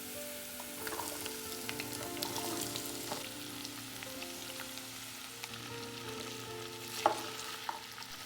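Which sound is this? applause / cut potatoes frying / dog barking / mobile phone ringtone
cut potatoes frying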